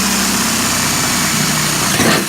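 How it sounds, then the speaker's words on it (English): A drill bores 3/8-inch clearance holes in a metal over-fender, giving a loud, steady motor whine that runs unbroken close to the mic. "now I just have to go all the way around and drill all these big ass holes in it"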